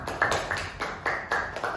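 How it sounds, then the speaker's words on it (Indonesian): A small group claps for a student named Bunga at a group counseling session, the claps coming in quick bursts with short pauses between them, close and moderately loud. "tepuk tangan dulu untuk Bunga."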